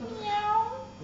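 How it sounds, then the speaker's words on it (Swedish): A cat in Galicia gives a single drawn-out meow, fairly close and clear, rising and falling in pitch over about a second. "Det är min katt."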